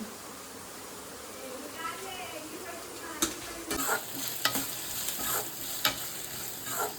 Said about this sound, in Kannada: ಸೊ ಇದು ಶುಂಠಿ ಬೆಳ್ಳುಳ್ಳಿ ಪೇಸ್ಟು ಸ್ಮೆಲ್ಲು ಹಸಿ ವಾಸನೆ ಹೋಗೋವರೆಗೂ ಬಾಡಿಸ್ಕೊಳ್ಳಿ.